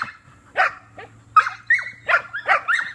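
A dog barks in a series of short, sharp yaps and whimpery woofs, about six bursts in quick irregular succession, close and clear over a faint low indoor hum.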